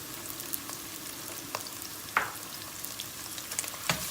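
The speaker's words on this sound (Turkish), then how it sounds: "Domates salçasını da iyice bir kavuracağız soğanla beraber." Tomato paste frying with onions in a pan, a steady close sizzle with a few sharper pops and stir scrapes.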